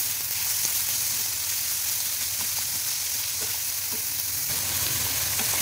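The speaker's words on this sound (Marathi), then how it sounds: "आपण कांदा मस्त फ्राय करून घेऊया" Plenty of onion with a little garlic fries in oil, a dense continuous sizzle with faint crackles and light stirring underneath, steady and close throughout with no voices.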